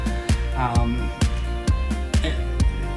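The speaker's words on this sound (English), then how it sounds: "you can hear the synthesizer in the background kind of pulsing." A synthesizer pulses steadily in a regular rhythm, with a bright sustained tone and sharp percussive hits recurring about every half second.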